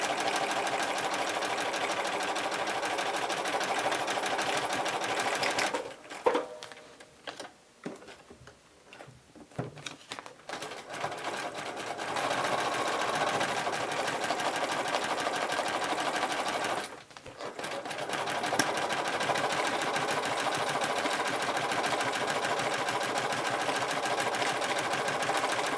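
A sewing machine scribbles free-motion patterns in decorative thread across one side of a piece of fabric, a close, steady mechanical whir that runs continuously, then halts briefly twice before resuming.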